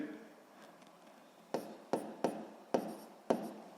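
Handwriting on a board during a physics lesson, with five crisp tapping strokes in an irregular rhythm after a quiet stretch, close and fairly faint.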